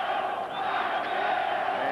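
Boxing arena crowd at a WBC featherweight title fight chanting "Ranchero" in unison, a sustained roar of many voices heard from a distance.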